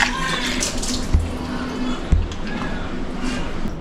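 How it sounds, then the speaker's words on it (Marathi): Fish are rinsed clean under running water in a home kitchen, a steady splashing and trickling from the tap with a couple of sharp knocks against the sink. "बघा, पुन्हा एकदा मासे स्वच्छ करून घेतलेत."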